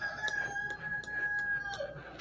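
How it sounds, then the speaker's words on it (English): Roosters crow at night, one long call followed by others, faint and distant with soft background noise and no talking. "We got roosters crowing."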